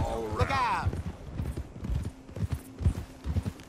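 Horse hooves clip-clop steadily on a trail in the Western game Red Dead Redemption 2, a regular beat close by, with a whinny near the start and voices talking over the riding.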